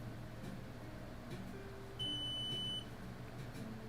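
A multimeter gives a single high, steady continuity beep lasting under a second while testing a MacBook logic board, over a faint low background hum.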